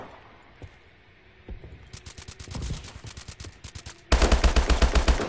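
Gunfire in the shooter game Call of Duty: Advanced Warfare: scattered distant shots and short bursts build into a loud, sustained fully automatic burst up close, the rounds firing in a fast steady rhythm.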